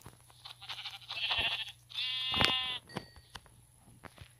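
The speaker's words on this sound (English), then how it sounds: "Ooh, another sheep to kill." Sheep in the Minecraft Pocket Edition video game bleat twice, quiet and close, with faint game sounds between the calls.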